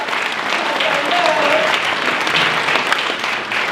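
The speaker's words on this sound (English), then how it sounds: "please join me in a round of applause for all the people who sponsor" Guests at a chamber of commerce Chairman's Ball in Gainesville applauding the event's sponsors, a loud, sustained, dense round of clapping from a large room with a faint tone rising briefly under it.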